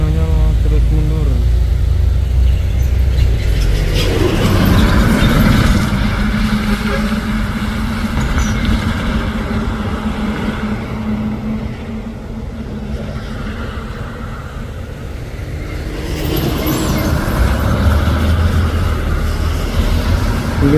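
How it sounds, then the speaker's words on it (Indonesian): A Hino dump truck reverses uphill on a hillside truck-trailer contest course, its diesel engine droning and revving loudly and steadily throughout, with heavy low rumble and background voices and crowd noise. "Dam truk Hinonya terus mundur."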